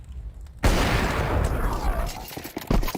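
Gunfire from an AWP sniper rifle in Counter-Strike 2 at a PGL Major match: a sudden loud blast after near silence, followed by sustained crackling game noise and a few further sharp hits near the end.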